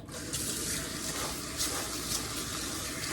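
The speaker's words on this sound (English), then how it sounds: "I'm gonna go ahead and wash the rice now." Rice is washed under a running kitchen tap, water splashing steadily into a bowl with a broad, continuous hiss and occasional louder gushes as the grains are stirred, close and unbroken.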